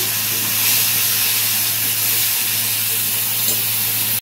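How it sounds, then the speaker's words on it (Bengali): Bay leaf, dried chillies, green cardamom and cinnamon frying in hot oil for a Bengali vegetarian potato-paneer ghonto, a steady close sizzle and hiss with no talk, cutting off abruptly at the end. "একটা তেজপাত ভাজ করে, লঙ্কা আর ছোটো এলাচ আর দারচিনি।"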